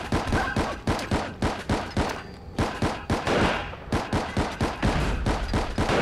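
Rapid bursts of gunfire in Fallout 4 crack out in a dense, steady volley of sharp, loud shots lasting several seconds, with no talking.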